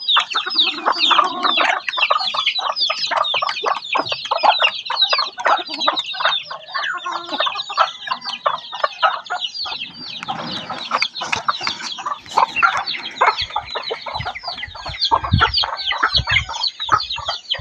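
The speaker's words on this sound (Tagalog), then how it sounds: "Sobrang daming manok." A large flock of chickens on a rural farm clucks and squawks continuously, many birds close together in an overlapping busy chorus with no talk.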